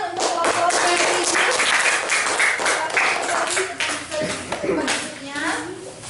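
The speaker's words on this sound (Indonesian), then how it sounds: "tepuk tangan untuk kelompok religius" Schoolchildren in a classroom clap together for a presenting group, a busy patter of applause mixed with young voices and chatter.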